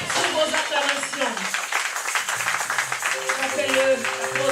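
A church congregation at an evangelical Sunday service claps in applause, a dense crackle of hands mixed with voices and sustained keyboard or organ tones.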